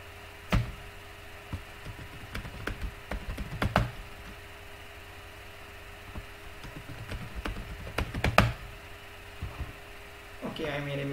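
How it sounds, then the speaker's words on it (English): Scattered clicks of keys being typed in short bursts, fairly close, with quiet pauses between and a faint steady hum beneath. "I made a mistake while typing in the password"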